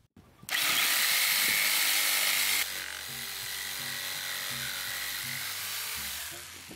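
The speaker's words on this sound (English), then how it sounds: "This jigsaw requires 650 watts to run" An electric jigsaw powered by a Bluetti portable power station: a loud, steady motor whine starts abruptly, then drops to a lower, rougher buzz with a rhythmic chatter as it cuts.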